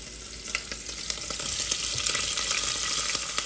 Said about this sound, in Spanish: la chistorra a sofreír con un poquito